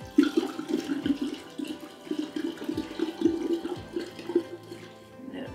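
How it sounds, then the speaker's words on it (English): Alcohol poured over rose hips in a jar for a homemade tonic, a steady trickling, splashing stream heard up close, running continuously with no talk. "And we will pour the alcohol on it."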